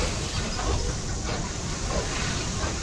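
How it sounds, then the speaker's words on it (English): Inside a large factory in Poppy Playtime Chapter 2, a train rumbles with a steady broadband roar and hiss, continuous and fairly loud, with no talking. "We got a train in it."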